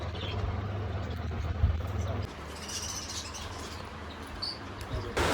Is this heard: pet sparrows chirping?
yes